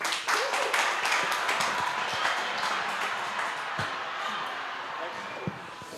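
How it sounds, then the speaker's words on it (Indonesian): Live audience clapping steadily for a comedian taking the stage at an Indonesian comedy show, a dense, sustained burst of applause with scattered voices underneath. "boleh tepuk tangan buat Bang Zikri Hakim"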